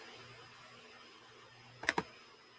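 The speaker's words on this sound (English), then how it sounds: "We're going to type that in." A short burst of two or three computer keyboard keystrokes, typing in a numeric answer, comes up close and crisp near the end, after a stretch of quiet room hum.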